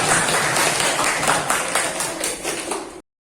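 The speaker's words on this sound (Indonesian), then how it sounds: "tepuk tangan untuk kelompok 2" Classroom applause for a presenting student group, a loud, even patter of many hands for about three seconds that cuts off abruptly.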